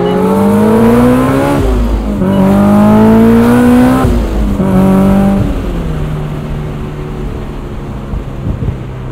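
A supercharged 2003 Honda S2000 being driven hard, the engine note loud and near, climbing through several revs with brief shift dips, then settling to a steadier cruise with no talk.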